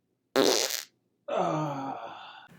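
Two loud, close farts, the first a short raspy burst and the second a longer buzzing one with a wavering pitch, separated by a brief silence.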